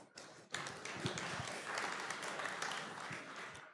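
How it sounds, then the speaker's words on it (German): A university audience gives dense, even applause to welcome a student speaker at a talk on a satellite project. The clapping starts abruptly and stays fairly steady throughout, with occasional thumps underneath. "Ihr dürft ihn auch begrüßen mit einem Applaus."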